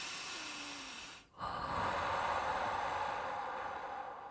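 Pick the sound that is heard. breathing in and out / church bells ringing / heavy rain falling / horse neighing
breathing in and out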